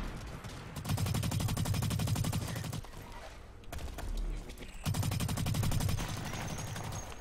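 Rapid bursts of automatic gunfire in the free online shooter Blacklight Retribution, loud and close, in two long sustained volleys separated by a short lull.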